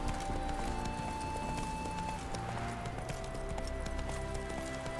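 Roach the horse canters in a video game, with steady rhythmic hoofbeats running continuously under ambient music and tones.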